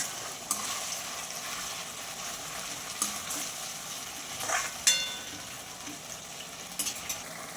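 Soya chilli sauce thickened with cornflour water bubbles and sizzles in a pan, a quiet, continuous fry broken by a spoon's occasional scrapes and clinks against the metal.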